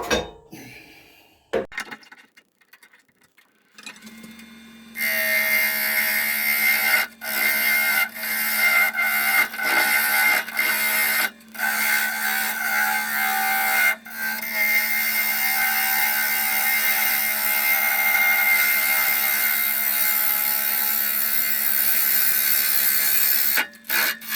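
Maple on a wood lathe, being turned into a kuksa, gives a loud, continuous scraping hiss over a steady motor hum, with brief breaks as the tool lifts off after a few quiet knocks at the start.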